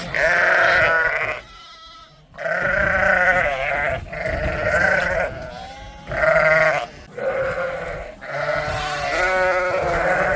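Several goats crowded into a small pen bleat loudly and repeatedly, with long wavering calls overlapping and broken by short pauses, close by and with no talking.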